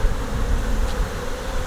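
Honey bees at a hive being checked for brood and bee quality, giving a steady, close, unbroken hum with no speech over it.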